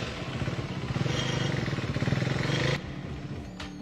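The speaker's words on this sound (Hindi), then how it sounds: "अब तो उन्होंने बाइक भी यहीं लगा दी" A motorcycle engine runs close by with a steady throbbing idle and some revving, then cuts off abruptly near the end, leaving faint background noise.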